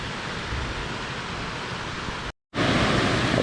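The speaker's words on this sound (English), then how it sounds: "Waterfalls." A waterfall on the Umpachene falls by the Housatonic River makes a loud, steady broadband rush close by. A brief silent gap comes near the end, and the roar then resumes.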